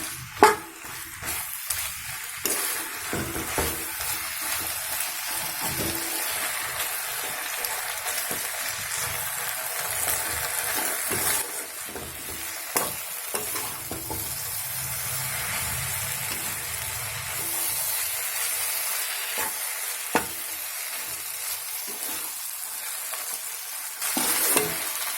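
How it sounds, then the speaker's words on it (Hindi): Fish masala being stirred and fried in a pan: a soft, continuous sizzle with occasional scraping and tapping of the spoon, fairly quiet and steady throughout, no voices. "इसको अच्छे से तोड़ने के बाद अभी मैं इसको अच्छे से मिक्स कर लूंगी।"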